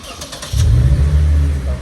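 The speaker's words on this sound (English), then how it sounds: "Oh, the exhaust sounds good." A Lexus IS300 with an exhaust leak bursts into a loud, deep engine roar about halfway through and holds it steadily to the end, close by, with no talk over it.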